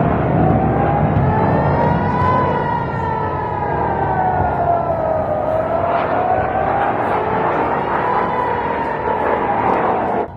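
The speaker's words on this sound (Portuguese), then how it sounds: "impressionante ouvir as sirenes." Wailing sirens rise and fall in slow sweeping cycles, loud and sustained for several seconds, with steady background noise beneath and no speech over them.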